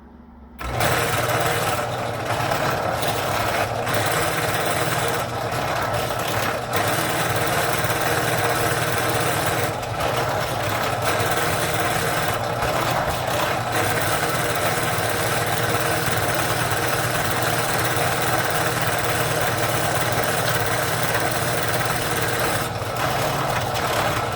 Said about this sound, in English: So we're going to start the drill press up.